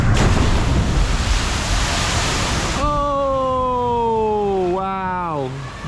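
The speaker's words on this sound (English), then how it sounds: "Here comes Splash with the cover on." A covered water splash ride at Duinrell amusement park comes down with a loud, close, roaring rush of water for about three seconds, followed by a wavering, sliding tonal cry over the fading spray.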